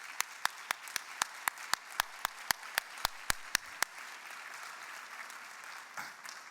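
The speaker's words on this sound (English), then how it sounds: "So if everybody can do a round of applause for this table over here." At a Junior Achievement Hall of Fame gala in Jacksonville, a few sharp, evenly spaced claps ring out over a quiet room murmur for about four seconds, then fade to faint background noise.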